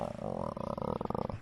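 A person's stomach growls with a low, rumbling, pulsing gurgle that builds and flutters for about a second and a half, close to the mic, with no talking.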